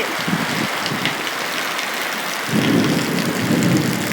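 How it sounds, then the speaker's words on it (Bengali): Heavy rain pours down in a dense, steady roar that grows fuller and deeper halfway through, with no voices. "আপনারা দেখতে পাচ্ছেন কত বৃষ্টি পড়ছে আমাদের এখানে"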